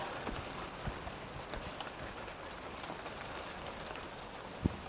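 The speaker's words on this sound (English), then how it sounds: "what do you do when it's raining, it's pouring" Steady rain pours onto a surface as a dense, even hiss, with a few sharper drips and taps, including one louder knock near the end. No one speaks.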